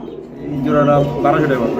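Two pigeons, a male and a female of different colours and breeds, offered as a pair for sale, give a couple of close, low, throaty coos. A voice talks over the cooing.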